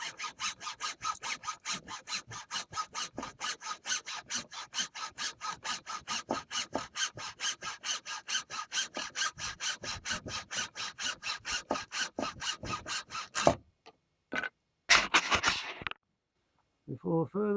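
Handsaw cutting through wood while building a schoolhouse loom, a long run of fast, regular rasping back-and-forth strokes, close and steady, then a few final strokes and a clunk as the piece comes off.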